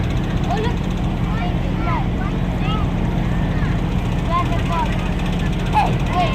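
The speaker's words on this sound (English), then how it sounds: "Coming in from the left, this is Typhoon." A Typhoon jet passes at a Red Arrows air show as a loud, sustained, deep roar that fills the whole stretch, with a crowd and voices faintly audible beneath.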